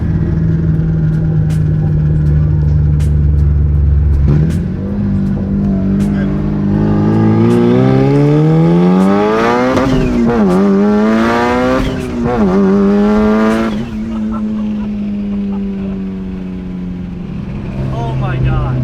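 Nissan Skyline R32 GTR revving and accelerating at full throttle, loud and close from inside, engine pitch climbing through several shifts with turbo rush, then easing off; someone talks over it.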